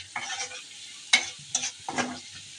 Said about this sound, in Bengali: আর এদিকে তেলের মধ্যে পেঁয়াজ কুচি দিয়েছি, ভেজে নিয়ে তারপর মাংসগুলো ছেড়ে দেবো।